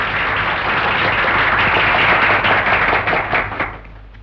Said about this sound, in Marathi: अरे टाळ्या वाजवा की